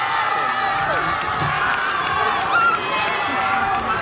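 Schoolchildren cheer at a Malpi International School physical education sports event, a steady, loud crowd of many young voices shouting and cheering together.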